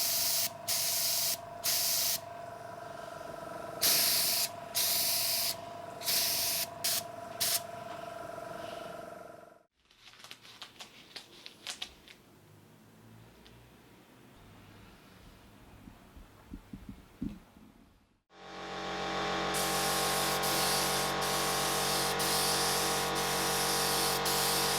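Spray gun applying lacquer to a Fender Stratocaster guitar body, a loud steady hiss in bursts with short cut-offs, then a quieter stretch of scattered handling noise before the spraying resumes strongly.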